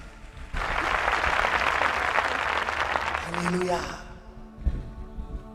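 Church audience applauding during a pastor's testimony service in Bellampalli, a broad burst of clapping that swells, holds for several seconds and then fades, with voices heard beneath and after it.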